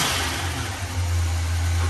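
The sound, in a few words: 1981 GMC Sierra truck engine revving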